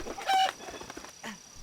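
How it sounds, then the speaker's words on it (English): Cartoonish chicken clucks and squawks from a LEGO City Undercover character doing a chicken glide, a few short bursts over a faint steady background tone with no talking. "I had to use the chicken glide here."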